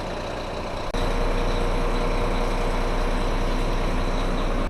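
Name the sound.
bus arriving at stop, engine idling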